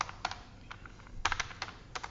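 Rapid typing on a computer keyboard while entering footer text in LibreOffice: irregular bursts of sharp, close clicks and clacks with short pauses, no speech.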